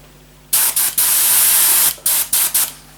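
Airbrush spraying weathering paint at about 25 to 30 psi on a 7mm Heljan VAA wagon, a loud close hiss in several bursts, one long spray and a few short pulses with brief gaps between them.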